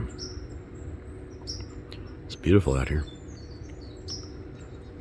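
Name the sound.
birds calling in trees, crows at morning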